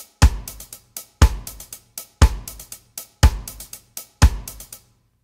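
A lone drum part plays a reggae groove, a heavy accented hit opening each bar followed by a cluster of lighter hits, repeating five times in a steady loop, close and clear with no voices.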